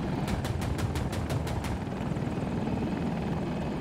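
A helicopter in the shooter game Battlefield 2042 drones with a steady engine roar, and its rotor chops sharply for the first couple of seconds before fading into the continuous hum; no voices.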